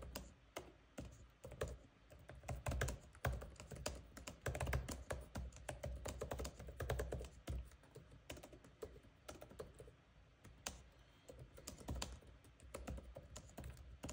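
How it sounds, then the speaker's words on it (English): Typing on the keyboard of an MSI Stealth 17 Studio laptop set to its silent profile in a quiet room: dense, rapid, soft clicking keystrokes at close range, continuous throughout with brief pauses and no talking. "let's take a quick look at the typing noise of the keyboard"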